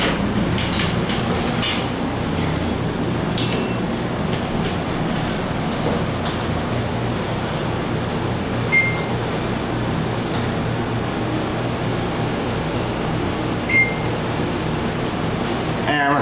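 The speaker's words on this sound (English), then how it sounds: "This is a very nice elevator, honestly." A Schindler 5500 MRL traction glass elevator at Bal Harbour Shops in Florida hums and rumbles steadily as the cab travels, a continuous low drone with a couple of faint chimes and a few clicks, heard up close with no speech.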